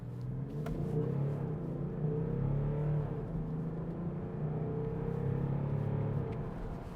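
A BMW X5 diesel SUV's engine drones steadily from inside the cabin in comfort mode, rising and falling gently as the vehicle accelerates.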